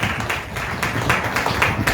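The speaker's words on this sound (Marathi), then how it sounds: "म्हणून टाळ्या वाजवून त्या देवाला" Congregation clapping together during a church worship service, a steady dense patter of many hands with periodic louder accents, close and continuous throughout.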